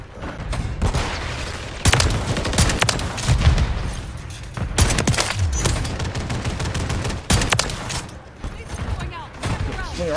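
Repeated loud shotgun blasts from a video game with an 18-inch Reclaimer shotgun, sharp booming shots scattered through a busy battle din, with talk mixed in.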